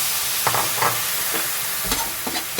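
Garlic frying in a pan while cooking menudo, a steady close sizzle with a few short scraping stirs of a utensil against the pan.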